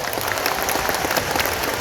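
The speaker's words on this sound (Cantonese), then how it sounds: "大家俾多啲掌聲啊" Steady, dense applause from a large concert audience at Hong Kong Coliseum, continuous and even throughout with no voices standing out.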